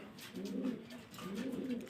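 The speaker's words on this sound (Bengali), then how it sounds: "আজকে কি কি কবুতর আছে কবুতরগুলো দেখে নেই" Pigeons coo in two drawn-out, rolling phrases, close by and fairly soft, with no voices over them.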